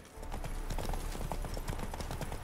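Horses' hooves pound steadily during a horse race in The Witcher 3, a dense continuous gallop of many overlapping thuds, loud and close throughout.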